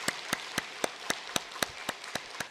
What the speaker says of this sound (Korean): 박수로 하나님께 영광 올리시겠습니다